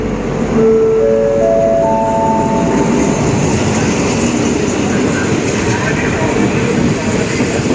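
Thai commuter train 301, hauled by Alsthom locomotive 4218, rumbles loudly past on the Bangkok–Lopburi line at Don Mueang, with steady rail clatter and a brief rising horn-like tone early on, and faint voices beneath.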